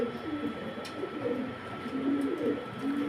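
A pigeon coos close by in a few soft, low, rolling phrases over a faint steady background hum, with no talking over it.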